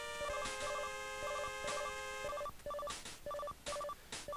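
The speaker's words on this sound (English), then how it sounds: "The phone is ringing." A telephone rings in the video game Mega Man 9: a synthetic chiptune ring of repeated paired beeping tones in short rhythmic bursts, with bright electronic clicks layered over it, fairly quiet and continuous.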